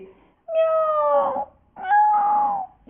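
Two drawn-out, wailing cat screeches, loud and close, each rising then trailing off, separated by a short pause.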